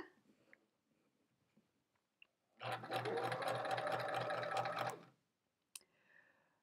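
Chain piecing quilt fabric, a sewing machine runs in a single quiet burst of about two and a half seconds, with faint handling sounds before and after.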